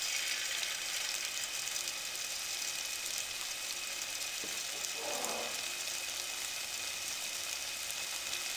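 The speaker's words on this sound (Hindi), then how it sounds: "मीडियम फ्लेम पे हम पकोड़े फ्राई करेंगे" Small jaggery sweet pakoras deep-frying in hot oil over a medium flame, a steady even sizzle holding throughout with a brief bubbling swell midway and no voices.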